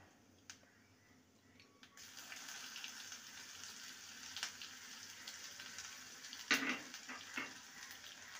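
Whole cumin seeds tempering in hot oil for mung dal, a soft steady sizzle starting about two seconds in and continuing faintly, with a few brief clinks and crackles.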